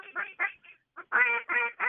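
Ducks near a duck blind give a quick series of nasal quacks. Shorter, softer calls come first, then louder, fuller ones close by, in an uneven rhythm.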